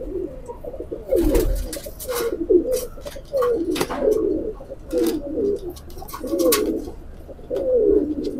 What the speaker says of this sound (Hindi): रामपुरी कबूतर है और टेडी फीमेल है साथ इसके।